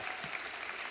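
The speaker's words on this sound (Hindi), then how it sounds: "जोरदार तालियां हो जाए हमारे मेहमानों के लिए" A TV show studio audience applauds its guests, a dense steady wash of clapping filling the whole moment.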